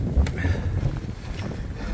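Strong wind on an exposed side of a mountain trail during a cold winter hike, a steady low roar and buffeting rumble against the microphone that fills the whole stretch without letup.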